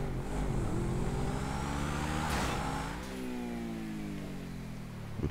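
Car in GTA 5 speeding up a parkour mega ramp, a steady revving engine drone that rises and shifts pitch, with a brief whoosh and thump near the middle, no talk.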